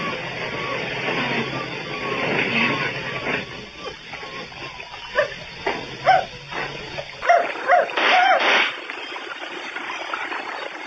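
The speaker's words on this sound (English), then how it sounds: "what the hell's the dog doing here anyway?" A dog barks and whimpers in a radio drama, with short yelps and whines near the end over a busy background of dialogue and noise.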